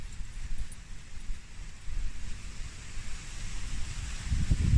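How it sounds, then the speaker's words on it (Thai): Steady outdoor wind roars across the microphone in continuous rumbling gusts, swelling louder toward the end, with no voices. "โอ้ยลม"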